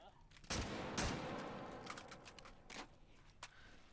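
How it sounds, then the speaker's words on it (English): Rifle fire from a Mark 12 in a shooter video game, a quiet series of sharp shots with two strong reports early on, then scattered lighter bursts and clicks. "Pilkkijä really burning through Mark 12 mags here"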